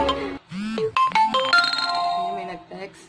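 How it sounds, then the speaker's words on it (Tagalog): A mobile phone sounds a short melodic text-message notification chime, bright tones ringing out amid a person's talking. "May nag-text."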